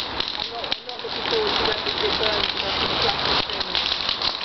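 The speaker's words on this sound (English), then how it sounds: "It's raining." Rain patters and hisses steadily outdoors at a bonfire, mixed with crackling fire and rustling burning cardboard and foil, a dense close wash of noise with people talking over it.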